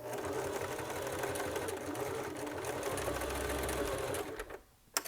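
Close, loud sewing machine stitching fabric in a continuous run with a brief backstitch, then slowing and stopping near the end, with no talk.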